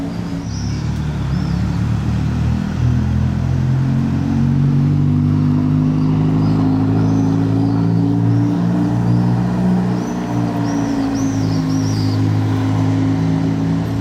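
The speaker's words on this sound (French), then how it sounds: "Le bon vieux professeur Raoul a sorti la F40." A Ferrari F40 sports car engine drones loudly and close, holding a steady, slightly rising mid-pitched roar as the car drives by on the road, with no voices.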